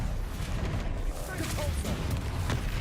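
Confringo and Bombarda blasting spells fire in quick succession in Hogwarts Legacy combat, a dense, roaring wash of booms and crackling impacts, loud and continuous with shouted voices mixed underneath.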